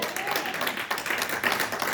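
Church congregation clapping in a dense, steady wash throughout, with voices mixed in under the applause.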